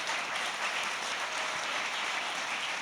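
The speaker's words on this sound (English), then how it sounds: "I want to give them a big round of applause for this space." A crowd claps steadily in sustained applause, dense and even throughout, with no talking over it.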